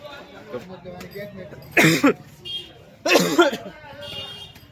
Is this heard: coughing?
yes